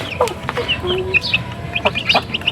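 Hens cluck repeatedly in short, choppy bursts close by on a farm, several birds overlapping in an uneven rhythm.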